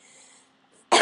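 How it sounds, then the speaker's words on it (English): One abrupt, loud cough breaks out at the very end after near-silence, right beside the listener. "I just needed to cough"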